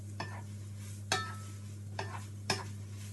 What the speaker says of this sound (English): I'm just going to stir through the noodles to make sure that they all get a coating with the oil.